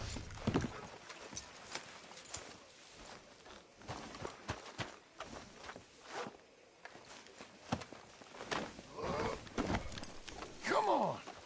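Horse hooves clip-clop at a walking pace in the Red Dead Redemption 2 video game, a run of close, uneven thuds mixed with tack rattles, a brief whinny-like cry, and ambient game sounds.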